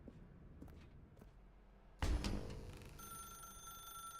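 A telephone rings inside The Stanley Parable, a sudden loud burst of ringing that sets off at once and then settles into a steady, sustained bell tone, preceded by quiet footsteps in a dark room.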